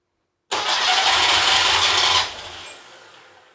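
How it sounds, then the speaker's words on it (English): A Porsche 912 engine, stored for over a decade, cranks after fuel is squirted in: a sudden loud, rasping churn for about two seconds that fails to catch, then fades away. "I think we're ready to try to start it again"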